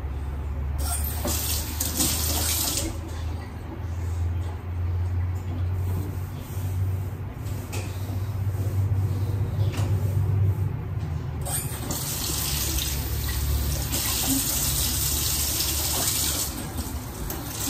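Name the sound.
dishwasher running with water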